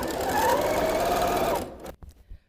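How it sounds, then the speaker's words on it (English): A sewing machine stitches quilt rows with a half-inch seam allowance in a short, close burst of whirring that stops abruptly, leaving a few faint handling clicks. "Now I am gonna sew this using my 1/2 inch seam allowance."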